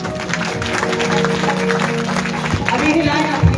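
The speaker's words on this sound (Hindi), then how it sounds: "जोर से ताली बजाएं।" A church congregation claps loudly and continuously, producing a dense, steady patter of many hands with crowd noise mixed in.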